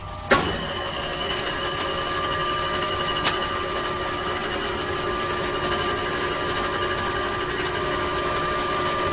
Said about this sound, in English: he's going to turn this machine on, lube that piece up, and spin a copper sphere for us